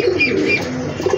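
Pet pigeons at a Bangladeshi bird seller's stall coo softly and continuously, with low throaty murmurs overlapping close by, one brief phrase rising over the rest.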